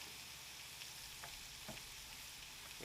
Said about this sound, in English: mix it really well. Get all those seasonings in there.